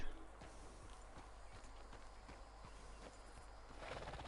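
A horse's hooves clip-clop in a steady walking rhythm in the video game Red Dead Online, evenly spaced hoofbeats, fairly close and clear over a soft background.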